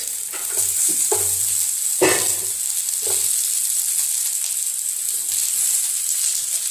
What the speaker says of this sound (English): Add some garlic and then fry it. Add some onions